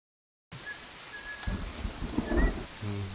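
Rain falls in a steady hiss after a brief silence, with low rumbling thuds and faint bird-like chirps mixed in, moderately close.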